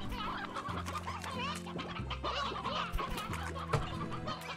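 Chickens in the video game Slime Rancher cluck repeatedly in quick bursts over a steady electronic music backing, with a few sharp clucks standing out near the end.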